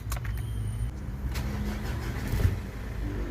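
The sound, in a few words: car engine starting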